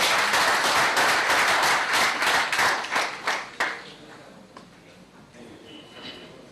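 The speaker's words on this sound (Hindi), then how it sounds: "उसको आप तालियां बजा करके अपना आशीर्वाद दें" Audience clapping at a Greentouch Projects gathering, a dense wash of many hands that is loud and steady at first, then thins into scattered claps and fades out by the end.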